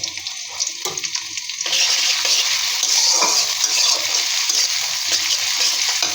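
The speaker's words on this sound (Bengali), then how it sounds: "এখন মরিচটা ভেজে নিব। দিয়ে দিব পেঁয়াজ রসুন কুচি" Chopped chili, onion and garlic hit hot oil for a pea-leaf fry, then hiss into a loud, steady sizzle that goes on without pause after a brief quieter start.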